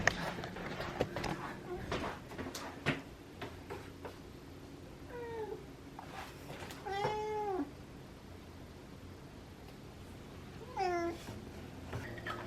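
A cat meows several times, drawn-out and pleading, at close range. A person talks throughout, and there are handling noises.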